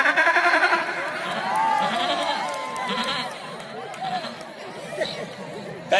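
A voice imitates a goat's bleat, a wavering, quavering cry, with other people chattering and laughing around him close by.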